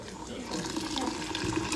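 Hot boiled tea water pours into sugar in a steady, splashing liquid stream, close and moderately loud, with a voice talking over it.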